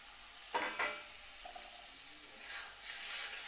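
Lightly fried potato and pointed gourd are stirred into masala in a pan. A couple of sharp scraping strokes come over a low, steady sizzle, and no voice is heard.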